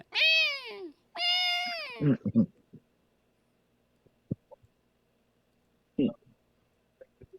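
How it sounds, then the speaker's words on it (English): A stray cat or kitten gives two long, drawn-out meows close up, followed by quiet scattered clicks and one short chirping mew. "He just sounds like a stray cat, like a stray kitten."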